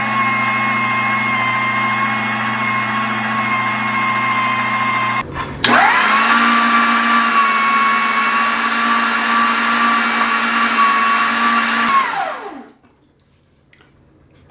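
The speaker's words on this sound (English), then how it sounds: "Till we have this all ground" An electric meat grinder runs continuously while grinding pork for sausage, giving a steady close whirring motor drone with one brief interruption, then straining slightly louder before winding down and stopping near the end.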